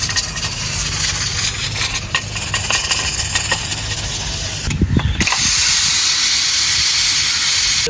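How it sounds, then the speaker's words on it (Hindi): A pressure cooker of boiled black chickpeas, taken off the stove, gives a loud, steady hiss of escaping steam for the whole stretch, with a few metallic clanks and knocks partway through. "तो प्रेशर कुकर को उतारते हैं"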